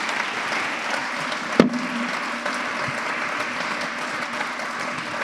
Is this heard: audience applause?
yes